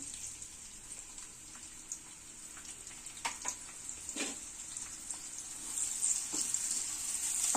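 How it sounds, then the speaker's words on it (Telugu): Finely sliced onions frying in hot oil, a continuous bright sizzle close by with a few soft stirring knocks, swelling louder toward the end. "ఆయిల్ వేడయ్యాక సన్నగా తరిగి పెట్టుకున్న ఉల్లిపాయ ముక్కలు వేసి"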